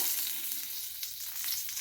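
Bay leaves drop into hot oil left from frying rui fish, producing a soft, even sizzle that continues without a break for the short moment.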